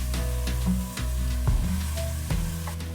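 Squash sautéing with cane sugar in a pan, with a soft sizzle and scattered stirring clacks over a steady low hum, close and moderately quiet.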